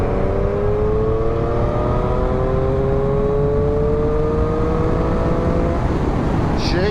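Triumph Street Triple motorcycle pulling hard under full throttle from about 40 mph, engine note climbing steadily as revs rise, loud and continuous with heavy wind rush throughout.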